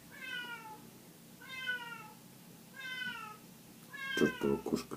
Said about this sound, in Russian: Хватит мяукать.